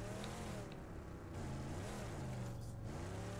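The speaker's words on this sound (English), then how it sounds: "I definitely hear a motorcycle" A motorcycle engine in a video game drones steadily with a low, buzzing tone that rises and falls in pitch as it revs, heard alone with no talking.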